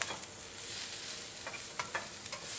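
Spinach wilting in hot oil in a pan gives a steady, close sizzle with soft stirring scrapes and a few sharper crackles.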